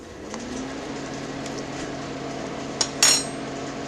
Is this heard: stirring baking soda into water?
yes